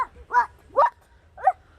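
A frightened puppy lets out three short, high yelps and barks with a whimpering edge, spaced about half a second apart, close and fairly loud against a low background rumble.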